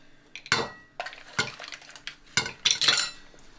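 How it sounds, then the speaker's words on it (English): Spoon stirs marinara sauce finished with double cream and chopped parsley in a pan, with repeated metallic clinks and scrapes against the pan in an irregular rhythm, close and fairly loud. "Just going to finish it with a load of chopped parsley. So just stir."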